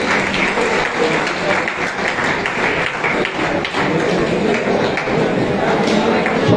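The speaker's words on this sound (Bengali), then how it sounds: "সবাই একটু জোরে হাততালি দেবেন।" An audience at a government ITI convocation ceremony in Karimpur claps for a second-place award winner, continuous loud hand clapping filling the hall with a steady texture.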